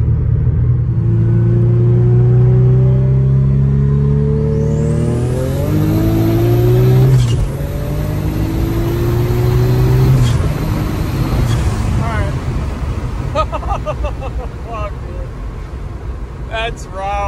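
An Infiniti G37 accelerates hard, its engine note climbing steadily through several gear shifts, each with a brief dip before rising again. The car is loud and close, with a high whine and a deep rumble underneath.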